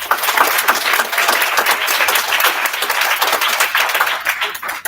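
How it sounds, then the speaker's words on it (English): Sustained applause from an audience at a youth achievement and awards celebration, dense and steady clapping filling the room at close range for the full duration without a break. "Might we have one more round of applause?"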